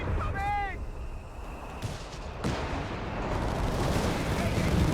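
British heavy mortar fire in the video game Company of Heroes 3: a descending incoming whistle, then booming blasts and rumbling battle noise continuing under a commentator's talk.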